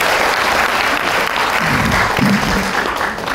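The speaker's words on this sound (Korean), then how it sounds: "박수 한번 주세요." A seminar audience claps in a steady, even burst for a few seconds, with a voice briefly speaking near the middle.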